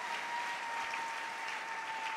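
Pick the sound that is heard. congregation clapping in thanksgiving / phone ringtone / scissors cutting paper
congregation clapping in thanksgiving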